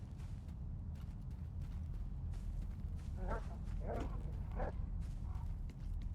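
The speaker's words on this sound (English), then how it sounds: "There are yet more dogs." A pack of dogs barking in the STALKER 2 video game: three short bursts of barking at a middle distance, partly buried under a heavy, constant low rumble of ambience.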